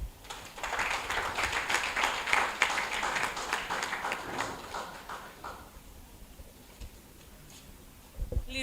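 A crowd applauds the head of a civil engineering department at a graduate induction ceremony, with dense, steady clapping for about five seconds that then thins and fades into quiet room tone.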